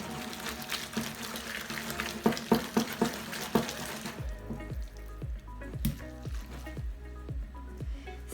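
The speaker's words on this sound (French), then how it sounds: "on les égoutte directement dans le bol, comme ça. Voilà, et on les mélange à toute vitesse" Drained al dente pasta tossed and stirred quickly in a bowl, busy wet clattering and sloshing at first, then quieter squelchy mixing with a few sharp knocks.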